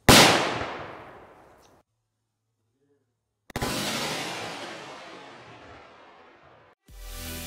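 A sharp, loud blast rings out and decays, then after a pause a second explosion blows up plasterboard, booming and fading slowly, followed by a rumbling burst.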